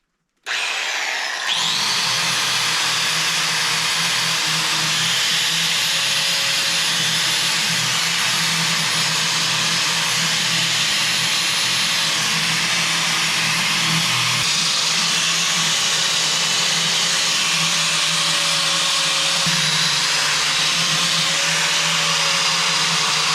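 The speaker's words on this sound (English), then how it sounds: "time for the wire wheel" Wire wheel on a power tool scrubbing parts of an International 756 diesel tractor during a coolant leak repair, a loud, steady high-pitched whine and rasp that spins up at the start and runs continuously with no talk.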